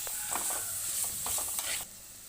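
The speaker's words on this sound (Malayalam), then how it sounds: "ഇത് നന്നായി ഒന്ന് ഇളക്കുക" Salt and turmeric being stirred into coconut pickle, a few soft scraping strokes over a faint sizzle, close and fairly quiet, ending abruptly.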